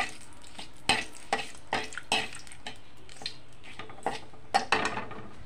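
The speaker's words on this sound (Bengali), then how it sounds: "নাড়াচাড়া করে নেব।" Ground spice paste stirred in a frying pan, a spatula scraping and tapping the metal in irregular strokes over a soft sizzle, with a few sharper clinks standing out.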